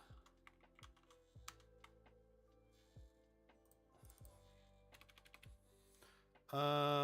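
Fingers type on a computer keyboard, a run of irregular, crisp key clicks at close range, a dozen or so presses with short pauses, ending in a louder burst of other sound.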